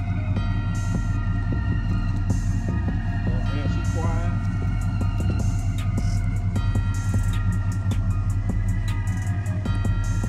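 A Chevy with an LS engine idles steadily, its low throbbing hum running through the whole stretch, with voices talking nearby over it.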